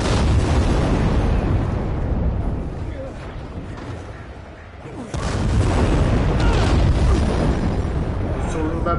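Bomb explosions in the video game Dying Light 2, loud dense booming blasts filling the scene, dipping briefly mid-way before a fresh heavy burst, with a voice talking over parts of it.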